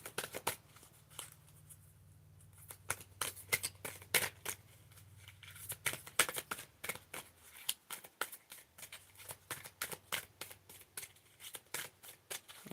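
A new, sticky deck of playing cards being shuffled, giving rapid bursts of crisp riffling clicks in uneven runs, close up, over a low steady hum with no talking.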